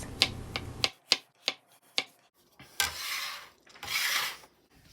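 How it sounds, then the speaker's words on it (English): Knife slicing mushrooms on a wooden cutting board: a steady run of crisp, close taps, then two longer rasping cuts, with no one talking. "Now let's slice up a couple of"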